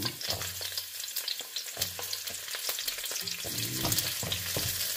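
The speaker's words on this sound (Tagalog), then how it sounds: "kung mainit na ang ating kawali, ilagay na natin ang ating bawang." Garlic sizzles and crackles steadily in a hot pan for pansit bihon, with stirring clinks and scrapes breaking through the frying, loud and close, with no talking.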